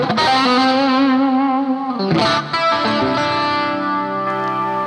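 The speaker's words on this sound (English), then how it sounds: "get that quacky Strat sound." Stratocaster electric guitar on an in-between pickup position with a bright, nasal, quacky single-coil tone, chords and notes ringing out with chorus shimmer, loud and up front with no talking.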